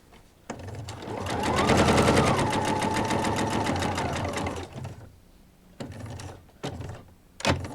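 A sewing machine runs at speed while backstitching fabric for a stuffed pumpkin decoration, a loud continuous rapid stitching burst followed by several short stop-start bursts, close up.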